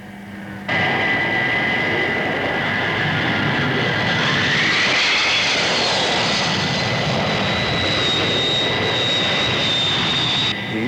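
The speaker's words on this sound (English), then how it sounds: "Undercut down. Flaps down. Banking for final approach." Thunderbird aircraft engine roaring loud and steady as the craft banks on final approach with flaps down, a high whine rising in pitch midway and sustained to the end.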